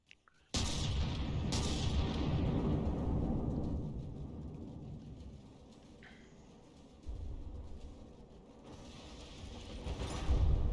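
Naval broadside gunfire from frigates in the warship game From The Depths: a sudden loud boom opens into a long rolling rumble, then a second heavy blast follows later, with creaking mechanical noise between and no voices.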